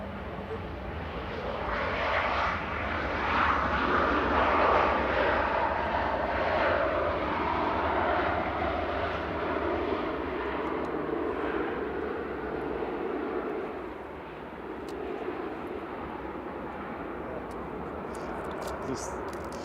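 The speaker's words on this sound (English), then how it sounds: "EasyJet from Amsterdam next, coming in." EasyJet airliner from Amsterdam on approach to land at Manchester Airport, a sustained broad engine rumble that swells and then eases slightly, with a voice talking over it at times.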